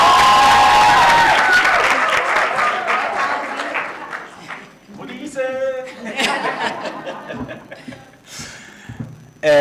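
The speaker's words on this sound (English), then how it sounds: "A big round of applause." An audience at a women-in-media mentoring event bursts into applause mixed with chuckles, the clapping fading and thinning over several seconds while a voice and some laughter come through.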